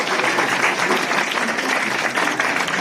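A school audience claps together at a program in a government senior secondary school, a steady, dense burst of applause that holds at an even loudness throughout, with no talk over it.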